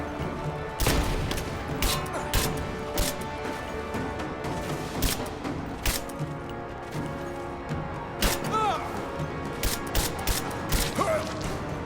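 Gunfire in the video game Rise of the Tomb Raider, heard as repeated sharp shots and bursts scattered over a busy mechanical game soundscape, moderately loud throughout.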